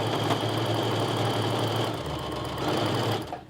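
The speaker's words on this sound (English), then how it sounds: "I just get that first corner lined up and I start sewing" A sewing machine stitches fat quarter strips for a pieced quilt, whirring in a steady, rapid mechanical buzz close up, slowing briefly midway and then stopping at the end.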